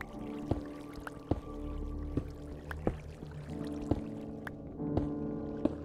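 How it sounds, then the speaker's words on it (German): Flowing water burbles and trickles steadily in a Minecraft cave, a soft continuous wash punctuated by regular sharp clicking footsteps and block sounds, with no talk over it. "Oh, ich höre Wasser."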